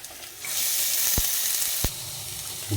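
Onion pieces dropped into a hot oil tempering with lentils, mustard seeds and green chillies, a sudden loud sizzle that swells and holds, with two sharp clinks of a utensil against the pan, close up and without talk.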